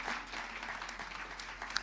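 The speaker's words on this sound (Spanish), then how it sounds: "Dele un aplauso al Señor" Brief applause from a church congregation, a dense even patter of clapping hands lasting under two seconds with no voices over it.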